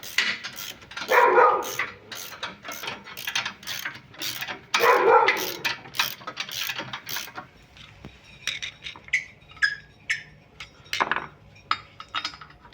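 Bolts are tightened on a boat trailer axle with a ratchet wrench, sharp rapid clicking in bursts, then lighter scattered metallic ticks and clanks nearby, with no speech.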